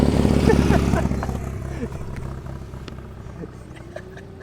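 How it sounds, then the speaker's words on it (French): A motorcycle engine idles on a blocked road, a low steady rumble that starts louder and settles into a quieter running drone with faint background noise. "ça va être vraiment pour le son ambiant de la moto que je vais utiliser tout au long de la vidéo"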